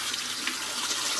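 Tap water runs steadily over a daikon radish being rinsed after salting, a continuous close splashing hiss with no talk.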